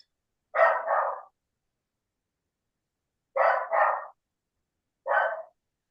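A dog gives three separate bursts of barking, two double barks followed by a single bark, loud and close against an otherwise silent background.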